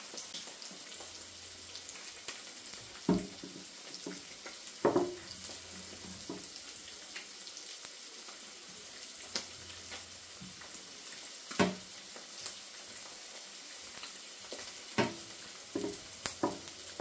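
Bacon frying in a pan on a hob, a faint steady sizzle broken by occasional clatters and scrapes of a utensil against the pan, heard close with no talking.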